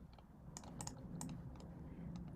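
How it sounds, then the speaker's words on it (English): Forceful typing on a computer keyboard: a handful of sharp, irregular key clacks scattered over a low background rumble, fairly faint and without any voices. "Like slamming the keyboard over here."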